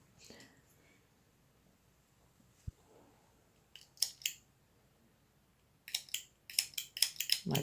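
Scissors snip yarn repeatedly in quick, crisp bursts near the end, close and fairly loud, after a quiet stretch with faint rustling.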